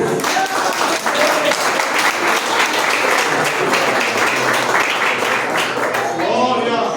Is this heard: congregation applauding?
yes